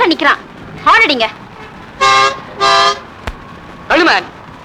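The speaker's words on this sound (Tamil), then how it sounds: "ஹார்ன் அடிங்க." A car horn on a street in a Tamil film scene gives two sustained, loud honks in a row, with excited voices talking just before and after.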